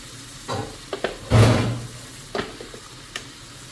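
Hot water goes into a pan of spiced fish for Adeni fish stew, giving a short burst of sizzling hiss followed by a few scattered stirring clinks and softer splashes, close by with no talk.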